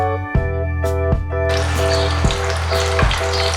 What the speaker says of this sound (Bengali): ডিমগুলোকে ভেজে নেব